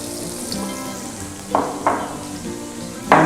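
Fresh, cleaned prawns fry in hot oil with a loud, steady sizzle, broken by a few sharp bursts and scraping stirs in the pan.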